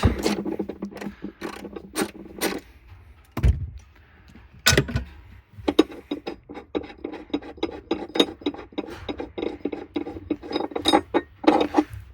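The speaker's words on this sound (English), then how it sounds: "We've got this 13 millimeter down here you'll want to undo so that the battery can be pulled out." Metallic clinks and scraping taps from a wrench working a 13 mm bolt loose on the battery of a 2017 Porsche Macan GTS, a close, irregular run of sharp ticks and knocks with brief pauses, no talking.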